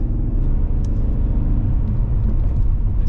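A BMW E39 M5's V8 engine burbles at a steady cruise, a deep, low, rounded rumble that stays even and close throughout, with faint ticks on top.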